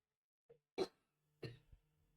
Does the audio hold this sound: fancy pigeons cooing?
no